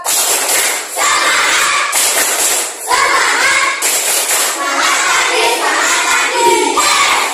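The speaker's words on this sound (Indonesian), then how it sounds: "Semangat, kita tepuk semangat dulu yuk." A classroom of third-grade children loudly chant the tepuk semangat cheer together, their voices and rhythmic claps coming in several bursts with short breaks between them.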